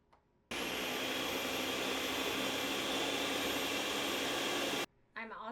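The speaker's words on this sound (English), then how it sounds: "I'm going to puree that up just a little bit" A kitchen blender purees butternut squash with eggs in one loud, steady whirring burst of about four seconds, cutting off sharply, with a short voice heard just after.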